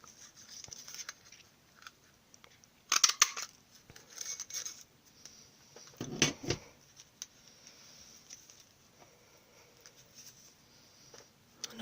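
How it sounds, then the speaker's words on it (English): A classic label punch cutting pieces out of card for a bird house card: two crisp, crunchy cuts stand out against quiet paper handling and light rustling nearby. "Using the classic label punch, I can cut out 2 pieces from here."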